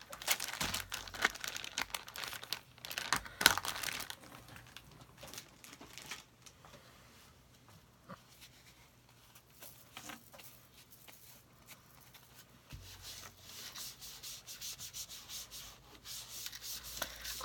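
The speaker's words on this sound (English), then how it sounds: "I'm going to take a baby wipe." Soft rubbing and scrubbing of a baby wipe cleaning a Christmas craft item, close and intermittent, with louder crinkly bursts at the start and end and quieter wiping in between.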